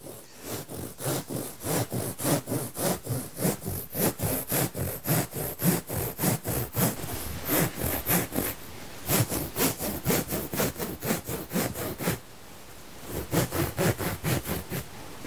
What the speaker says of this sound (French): vous pouvez utiliser tout simplement un gros couteau à pain, un couteau à dents